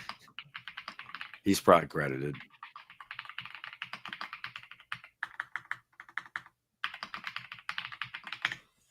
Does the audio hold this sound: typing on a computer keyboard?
yes